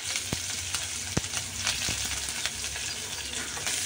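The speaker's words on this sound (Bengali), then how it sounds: "ভালো করে ভেজে নেব।" Chopped onion, green chili and garlic frying in soybean oil, a steady close hiss of sizzling with a few sharp ticks and spatters over about four seconds.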